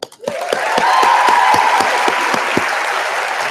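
A convocation crowd at the University of Guelph breaks into loud, full applause for Patrick Bolsterley, a dense wash of clapping that swells quickly and holds steady, with a few louder individual claps near the front.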